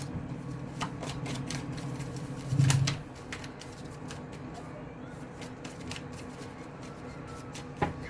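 Tarot cards are shuffled for a cross spread, giving soft, quick papery riffles and flutters with a brief louder burst partway through, heard close in an otherwise quiet room.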